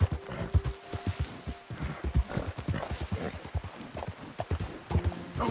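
Hooves of a horse galloping in the Red Dead video game, a rapid, rhythmic clip-clop that stays loud and close throughout.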